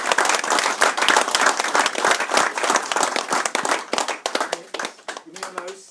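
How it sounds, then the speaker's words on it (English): An audience at a rugby league life membership ceremony applauds, steady dense clapping from many hands that thins out toward the end, with a voice briefly heard near the close. "So a round of applause."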